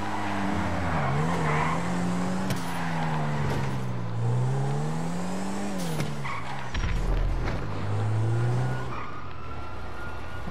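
A car in GTA V drives fast with a continuous engine drone that rises and falls, and tires squeal and skid through the turns, loud and steady with no pauses.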